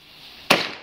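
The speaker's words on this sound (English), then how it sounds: "We're gonna fire some fire rocks or some fireworks with my dad." A firework rocket firing outdoors at New Year, heard as a sudden sharp burst that rises out of quiet background hiss, followed by a short whooshing tail that fades away.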